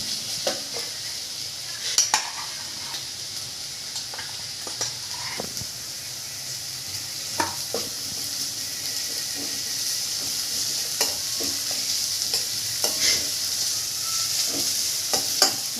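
Ginger, chili and cumin paste frying in a pan for sabudana khichdi, a steady hiss of sizzling oil with occasional spoon scrapes and taps against the pan.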